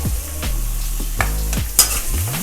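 Curry leaves sizzle loudly in hot oil for a potato and peas kurma, with a steady frying hiss and several scrapes of a spoon stirring the pan, close and alone with no talk.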